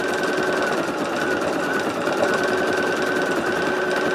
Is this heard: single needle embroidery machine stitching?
yes